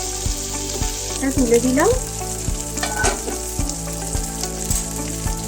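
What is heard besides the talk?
tandoori chicken pieces frying in a pan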